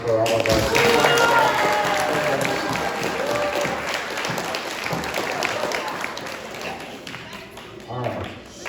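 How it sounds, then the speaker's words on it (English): Audience applause for singers at a school spring concert, a dense burst of clapping from a crowd that swells early and slowly tapers off, with voices mixed in. "another big round of applause for all of our singers."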